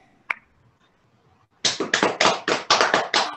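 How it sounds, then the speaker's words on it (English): Small online group clapping after a ten-minute stretch break class, a single sharp tap followed by a short round of steady, close applause in rhythmic bursts. "Round of applause"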